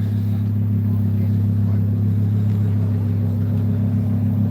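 A car fitted with a Kenny Bell 4.7 liter dual-inlet supercharger idles steadily at a Texas Mile event, a loud constant low rumble with voices faintly underneath.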